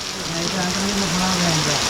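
Unseasonal rain falls steadily in a Konkan village, a continuous hissing patter filling the background while a voice talks over it.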